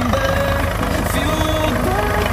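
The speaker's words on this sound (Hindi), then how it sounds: "ये हमारा तीसरा ट्रैक्टर है ISO 300 का, तो मशीन में चल रहा है।" Tractor engine running steadily close by on a farm during the groundnut season, a continuous loud rumbling drone with a rhythmic throb and no pauses.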